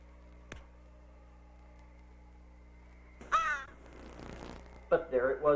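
A crow caws twice, in two short rasping bursts with a pause between them, coming from a tall tree over a quiet, steady background.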